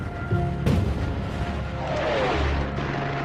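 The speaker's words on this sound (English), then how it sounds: "with a preliminary artillery barrage, followed by a massive tank assault" A WWII artillery barrage, a sharp crash followed by a sustained, loud rumbling roar of continuous bombardment with heavy low booms.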